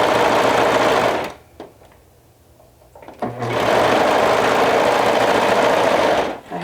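A serger sewing machine runs in loud, close bursts of rapid whirring stitching, pausing for about two seconds before starting up again at full speed.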